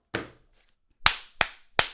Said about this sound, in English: round of applause for the snitch